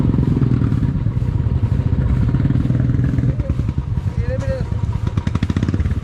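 A motorcycle rides on the mountain road from Manali toward Rohtang Pass, with a steady, loud engine drone and rattling over rough ground, and wind buffeting under a rider's voice.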